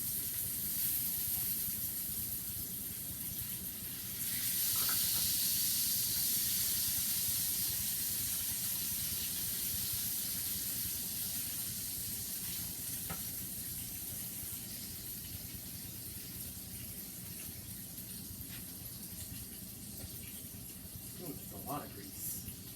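Burger patties sizzle in a pan, a constant hiss and crackle that holds steady throughout, with faint clinks and short sounds from handling.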